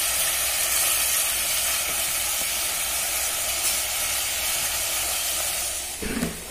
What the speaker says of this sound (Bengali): এদিক থেকে আবার আমার ইলিশের মশলাটাও কষানো হয়ে যাচ্ছে